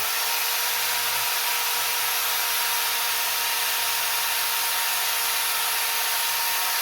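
An electric foam saw cuts through car seat foam for a 1959 Ford 300 seat, giving a steady, close hissing buzz that runs unbroken throughout without speech.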